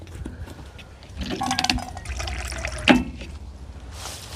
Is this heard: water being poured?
yes